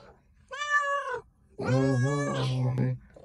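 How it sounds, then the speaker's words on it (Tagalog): A hungry pet cat meows twice near the microphone, first with a short cry and then with a longer, louder, drawn-out wail. "our kitty cat is so hungry now. He is already crying"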